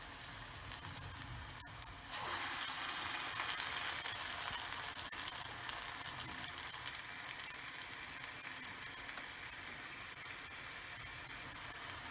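Steady crackling sizzle of medu vada frying in hot oil, a bright hissing wash that swells slightly after a couple of seconds and continues unbroken.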